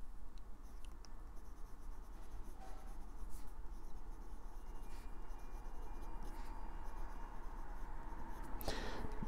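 A Kaweco Al-sport fountain pen with a broad nib writing on paper, a continuous close scratchy scraping with small strokes and taps, steady and faint, with no talking.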